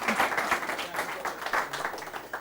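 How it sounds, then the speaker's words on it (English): Audience applause at a talk on open and user innovation, a steady wash of clapping from a crowd held at an even level throughout. "a big round of applause for everybody"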